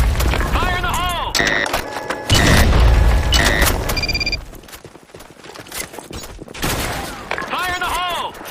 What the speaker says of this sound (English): Fire in the hole! Grenade!